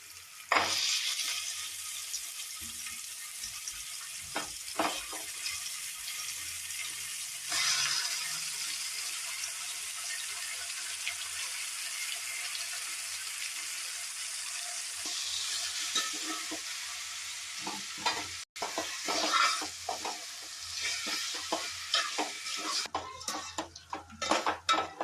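Chicken marinade sizzles and fries with onions in a pan while a utensil stirs and scrapes, with steady frying hiss broken by clinks and scraping strokes, louder and busier toward the end.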